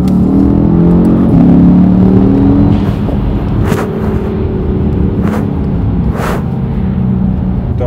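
A Mercedes-AMG E 63 S without particulate filters revs loudly and close by, its engine note rising and falling in sustained drones, with a few sharp crackles near the end.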